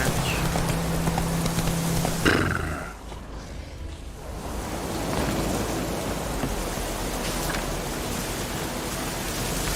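Roach, Geralt's horse in The Witcher 3, gallops with a steady rhythmic clip-clop of hooves over a constant rushing wind-like wash, briefly dipping in loudness before resuming; no one speaks.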